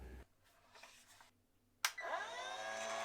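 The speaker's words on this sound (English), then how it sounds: "It is very quiet and the grinding wheel has absolutely no wobble" A Parkside 20V battery-powered chainsaw sharpener, run on a 4 Ah battery, starts up with a sharp onset and its grinding wheel spins up into a steady, fairly quiet whine that holds to the end.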